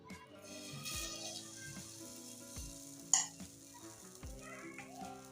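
A ladle of rava and besan batter poured onto an oiled pan sizzles softly and quietly, with a few clinks of utensils and a sharp tap partway through, no talk.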